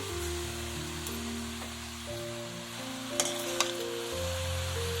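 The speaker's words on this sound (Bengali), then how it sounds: "নারকেলটাকে দিয়ে গুড়ের সঙ্গে ভালো করে মাখিয়ে নাড়াচাড়া করবো" Grated coconut is stirred with date-palm jaggery in a pan, giving a steady soft sizzle and hiss with a couple of brief scraping clicks near the end, all beneath a constant tonal background.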